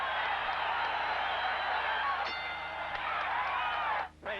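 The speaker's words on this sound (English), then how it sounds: "The crowd coming to its feet." Boxing arena crowd in a title fight between Salvador Sanchez and Danny Lopez, a broad sustained roar of cheering rising steadily, with a commentator talking over it before a sudden dip at the end.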